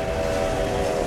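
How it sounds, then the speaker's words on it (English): A cartoon train approaches with a sustained, steady whistle tone over a rolling mechanical rumble, continuous and fairly quiet, heard alone without any talking. "Is there a choo-choo train I hear coming our way?"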